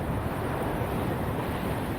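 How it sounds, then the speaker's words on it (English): Strong wind at the beach roars and buffets the microphone in a steady, dense rumble, with no voices or other sounds breaking through. "So we are at the beach today, and it is very, very windy."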